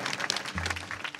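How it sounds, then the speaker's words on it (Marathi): A kirtan audience applauds in brief, uneven bursts of clapping at moderate distance, and a low hum joins partway through. "त्यांच्यासाठी एकदा जोरदार टाळ्या सर्वांनी वाजवा"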